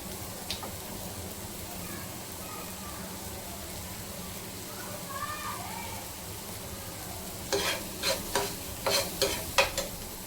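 Prawn masala with onion and tomato fries on a tawa under low steady sizzling, then a quick run of stirring scrapes near the end, close and moderate.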